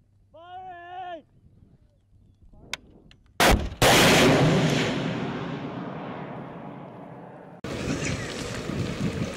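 Gunfire in a firefight in Afghanistan: a few sharp, loud cracks, then a huge blast whose roar slowly decays, followed by another burst of noise, with a voice heard briefly at the start.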